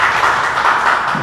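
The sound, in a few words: audience applause at press conference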